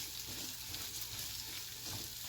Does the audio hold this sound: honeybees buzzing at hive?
no